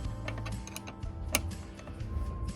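A number 10 wrench works loose the negative battery terminal on a 2013 Lexus RX 450h, making a quick run of light close-up ticking clicks and metallic taps, with no voices.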